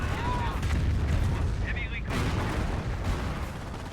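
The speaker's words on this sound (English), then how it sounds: "Another Calliope rocket barrage." A Calliope rocket barrage in Company of Heroes, a World War II strategy game, with a steady roar of rocket fire and explosions, loud and continuous, under a voice commentating.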